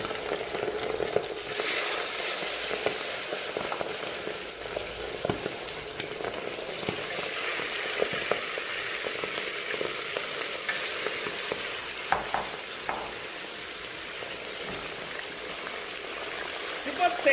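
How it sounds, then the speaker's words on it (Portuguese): Pork belly fries in very hot oil in a pan with a loud, steady, close sizzle and crackle that runs throughout, scattered with sharper pops. "cuidado quando vocês for colocar a carne na panela, ó. Tem que estar bem quente o óleo."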